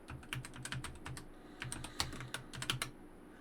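Someone types on a loud mechanical keyboard while playing online chess, producing rapid, irregular clicking keystrokes, close and crisp, with brief pauses and no talking.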